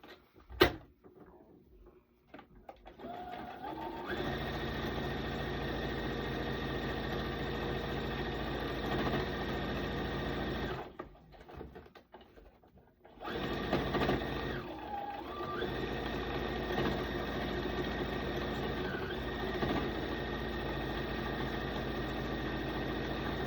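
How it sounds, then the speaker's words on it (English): A sewing machine stitches around a fabric piece with long, steady runs of mechanical whirring, pausing briefly midway before resuming with the same even, close, loud drone. "So now I just take this to the sewing machine and I stitch around this part right here."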